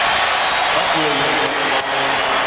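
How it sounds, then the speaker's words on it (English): An arena crowd at the 1992 NBA Finals Game 6, Trail Blazers at Bulls in Chicago, keeps up a loud, steady roar with a brief dip late in the moment, reacting to a player at the foul line. "Scott Williams hears it from the crowd"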